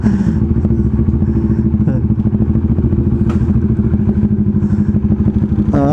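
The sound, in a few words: NK400 motorcycle engine while riding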